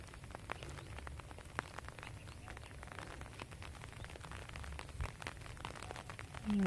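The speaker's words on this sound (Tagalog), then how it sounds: "Ambon-ambon pa rin." Light drizzle falling outdoors over a rice field after Typhoon Kristine, a faint, steady patter of scattered drops with a soft low rumble beneath and no talking.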